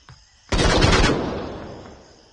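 A brief burst of rapid gunfire in the VR shooter game Onward erupts after a short pause, loud and close, then trails off into a fading echo.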